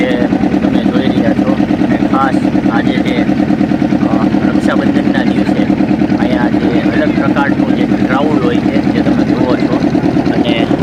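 A boat's engine drones steadily and loudly throughout on the open sea at Ghogha, with a constant low throbbing hum and voices talking over it.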